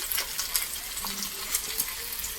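Meat frying with salt, chilli powder and spices in a pan, a continuous crackling sizzle with scattered sharp pops and faint stirring, close and steady.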